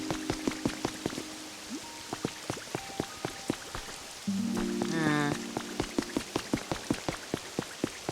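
Rain falling in the video game Pokemon Pokopia: a steady, rhythmic patter of distinct drops, with a few brief tonal game effects layered over it and no voices.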